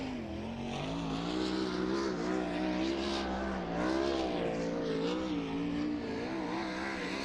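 A pack of sprint cars roars around Lincoln Park Speedway at a World of Outlaws race. The loud, dense engine howl swells and dips as the cars sweep past, with no voices over it.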